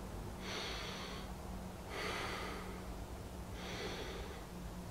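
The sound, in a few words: deep diaphragmatic breath demonstration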